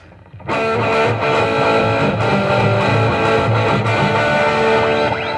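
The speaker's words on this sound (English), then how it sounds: "I can also add delay to that." Loud distorted Fretlight FG-400/500 electric guitar rings out with a delay effect, echoes trailing behind each note in a big, sustained wash of sound.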